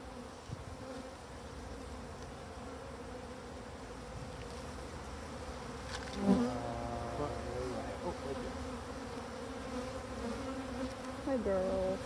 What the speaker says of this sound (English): we have bees all over.